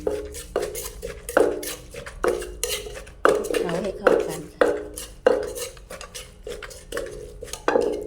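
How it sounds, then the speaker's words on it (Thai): A spoon clinks and scrapes in a steady rhythm against a bowl while a Thai eggplant and mackerel dip is mixed with spring onion, cilantro and toasted rice. The strokes come about twice a second, close up. "แล้วก็จะใส่ต้นหอมผักชี ลงไปแล้วก็คลุกเคล้าให้เข้ากัน"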